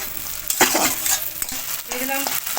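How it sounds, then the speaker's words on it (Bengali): Onion, garlic, tomato and ginger fry in a kadai for paneer masala, with scraping stir strokes over a steady close sizzle. "এবার এইভাবে আমি ভাজতে থাকবো"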